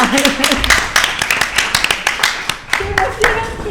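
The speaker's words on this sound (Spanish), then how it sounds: "Un aplauso muy fuerte, por favor" An audience at a feminist digital gathering claps for a guest speaker with brisk, close hand claps that carry on for a few seconds, while voices talk over the clapping.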